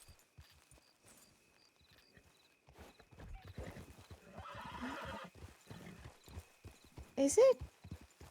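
Horses in a Red Dead roleplay game: hooves clip-clopping steadily on the ground, then a loud, close whinny near the end, with people talking throughout.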